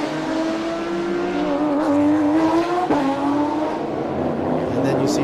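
Race cars lapping a circuit during a Porsche-led touring car race, engines droning and shifting pitch continuously at close range with a brief tire squeal, under steady commentary.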